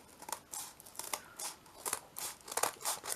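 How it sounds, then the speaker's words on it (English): Scissors snipping through scrap cardboard in a quiet crafting setting, a series of short crisp cuts in uneven rhythm, close and fairly soft, with no voices. "So get any of your scrap piece of cardboard that you have and just cut them out."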